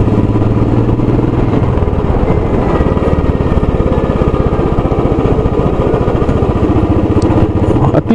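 A motorcycle climbs the gravel-strewn ghat road from Mahabaleshwar to Pratapgarh through dense forest, its engine a steady, close, loud drone that holds without a break from start to finish.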